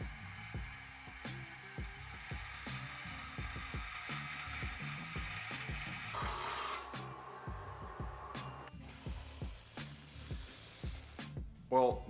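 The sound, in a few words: old saw blade slowly cutting a metal motor plate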